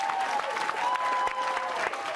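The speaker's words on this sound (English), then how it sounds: "you should give yourselves a round of applause." A room full of people claps steadily for Hope Week honorees from a theater, the dense applause sustained and fairly loud throughout with no voices rising above it.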